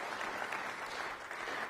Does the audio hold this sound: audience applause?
yes